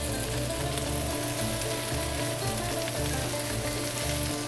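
Cooked bacon returned to a hot pan of sautéed apples and Brussels sprouts gives off a loud, steady sizzle that runs unbroken throughout, close to the mic, with faint crackles on top.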